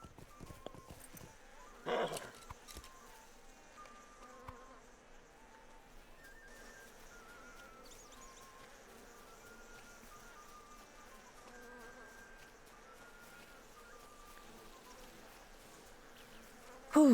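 Insects buzz around a newly placed hive in a video game, a faint, thin drone that drifts and wavers, with a brief thud early on and a sharp sound at the very end.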